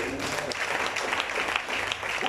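A church congregation applauds for a nun during a service: dense, continuous clapping from many hands, loud and close throughout.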